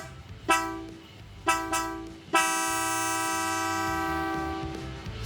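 Mitsuba Dolce III car horn with echo/reverb fitted to a Toyota Hilux Conquest, sounding three short toots followed by one long sustained blast that trails off with a ringing tail, loud and close.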